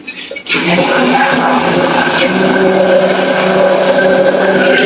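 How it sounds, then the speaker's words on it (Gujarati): After a brief pause, a blender starts churning sour yogurt into buttermilk, a loud, close, continuous whirring that holds steady to the end. "આમાં આપણે બ્લેન્ડર ફેરવી અને છાશ બનાવી લઈએ"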